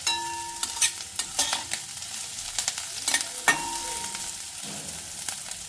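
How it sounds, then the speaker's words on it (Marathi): Mushrooms sautéing in a pan for a mushroom masala, a light sizzle under repeated clinks and scrapes of a spatula stirring, close and intermittent. "मशरूम आपण डायरेक्ट घालणार. थोडीशी अशी परतून घ्यायची आहे."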